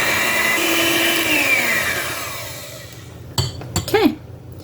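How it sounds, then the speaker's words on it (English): An electric mixer whirs steadily through banana bread batter for about three seconds, close and fairly loud, then stops, followed by a few clinks and soft handling sounds. "I'm going to mix this up so it's going to be a little noisy."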